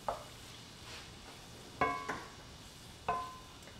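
Tomato sauce being stirred into a gently simmering beef empanada filling, soft bubbling with a few brief spoon scrapes and clinks against the pot, quiet and close.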